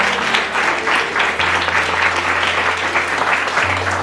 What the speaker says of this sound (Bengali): এটা প্রভুকে করতালি দিয়ে গৌরবান্বিত করুন।